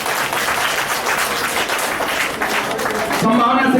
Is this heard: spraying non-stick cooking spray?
no